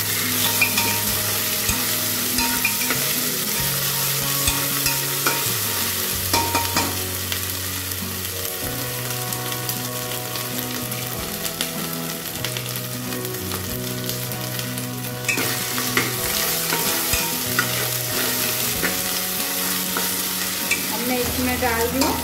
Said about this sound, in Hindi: अब इसे अच्छे से भून लेते हैं।